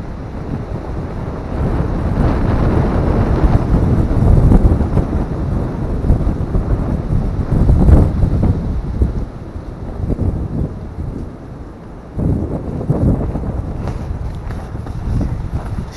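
Wind gusts through a spring forest campsite with an open-front Adirondack-style shelter, a steady loud roar rising and falling in surges, with heavy buffeting against the microphone and no talking.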